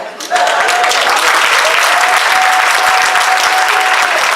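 A gala crowd at an NAACP Freedom Fund dinner breaks into loud, sustained clapping that begins suddenly and stays dense and even throughout, with a faint tone running beneath it.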